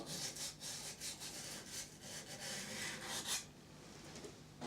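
Abrasive paper sanding a metal part of a Myford M lathe during restoration, a steady scratchy rubbing in rapid back-and-forth strokes, close and continuous for several seconds with no talk.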